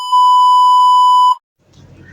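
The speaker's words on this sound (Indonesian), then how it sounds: "Wah ada telepon sebentar ya," A single loud steady electronic beep lasting just over a second, which then cuts off into quiet low background noise.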